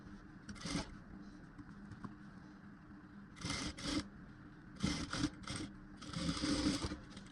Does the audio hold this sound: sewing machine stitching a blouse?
yes